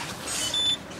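A few thin, high-pitched electronic beeps, short and irregular, over soft background hiss.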